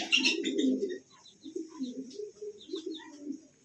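Soft, low cooing of Bombay pigeons repeats in gentle rolling phrases, close by, with faint chirps and calls above it.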